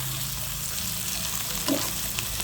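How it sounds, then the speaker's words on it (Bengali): Radish frying in a little oil sends up a continuous dense sizzle, close and even throughout, with one brief bubbling pop near the end and no talking. "আর অল্প তেলেই কিন্তু এভাবে ভেজে নেব।"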